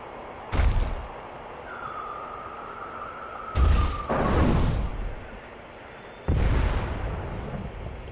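Explosions in the point-and-click adventure game The Secret of Monkey Island: three separate low booms a few seconds apart, each a sharp burst fading into rumble, with a brief tonal game sound between the first two.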